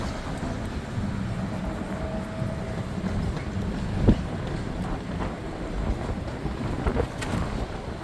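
High wind buffets the microphone outdoors during a steering wheel repair on a 2015 Chevy Trax, a constant low rumbling roar with occasional stronger gusts.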